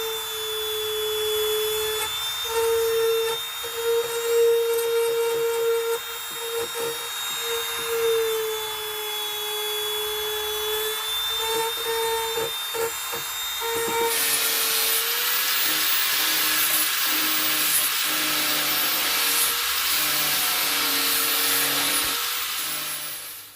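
An angle grinder smoothing a fiberglass waterfall for a koi pond: a sustained whining motor tone that shifts pitch as the disc loads, turning to a harsher grinding roar partway through, continuous and close, with no talk.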